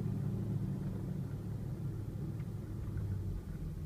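Toyota Land Cruiser reversing up a driveway, a low steady engine rumble heard from inside the cabin, faint and continuous with no talking.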